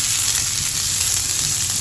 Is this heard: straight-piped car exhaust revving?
no